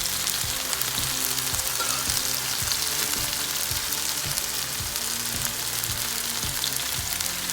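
Chicken souvlaki pieces fry in a pan with a steady, dense sizzle, with soft regular thumps repeating beneath the hiss and no voices.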